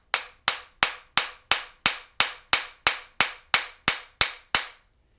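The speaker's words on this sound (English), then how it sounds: "They said you can use a hammer too." Thirteen sharp, evenly spaced hammer strikes ring out one after another in a steady rhythm, then stop, as a part is hammered into place on a Porter Cable floor drill press during assembly.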